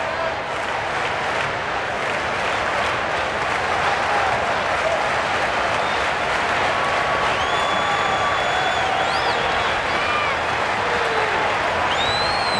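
A large crowd at a 1993 Giants–Braves baseball game in Atlanta roars and applauds steadily after a base hit, a dense sustained wash of cheering with whistles rising over it, while a broadcaster talks.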